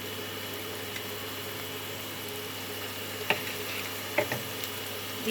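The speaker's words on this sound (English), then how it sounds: "We'll saute it for some time" Chopped onions sauté in three tablespoons of hot oil, giving a soft, steady frying hiss with a few faint clicks of a utensil against the pan.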